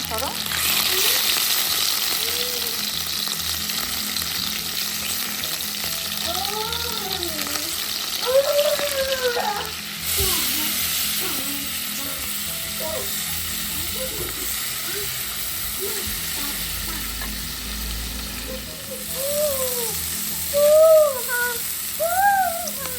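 Garlic, chili flakes, onion and mushroom frying in butter in a home kitchen make a steady, fairly loud sizzle and hiss throughout, while a voice talks intermittently over it.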